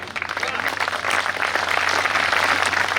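An audience at a Hindi comedy poetry gathering (kavi sammelan) breaks into sustained applause, a dense wash of clapping that swells after the first second and holds steady and full to the end.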